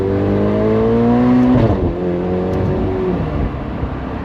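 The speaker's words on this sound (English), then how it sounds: "You gotta love those exhaust cracks." Ferrari Portofino's free-flowing V8 lets out a few sharp exhaust cracks and pops over a steady engine drone, loud and close as the car cruises.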